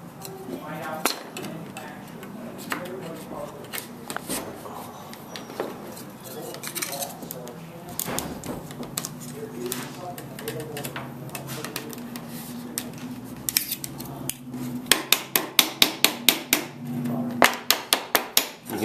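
A hammer taps a shim under tight siding with light, intermittent knocks, ending in a quick run of sharp, evenly spaced taps near the end, close by and mixed with talk and handling noise.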